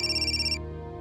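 A telephone ringtone plays as a steady electronic tone for about half a second and then cuts off, leaving a sustained musical backdrop with no talk.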